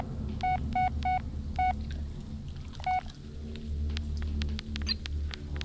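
Beeping electronic tones from a mobile phone game, a quick run of four short chirps then another a moment later, over a steady low hum and faint clicks.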